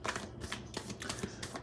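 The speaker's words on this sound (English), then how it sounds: "I shuffle the fuck out of these cards" Tarot cards being shuffled by hand, a quick series of crisp riffling bursts and soft flicks at close range, fairly quiet and uninterrupted by talk.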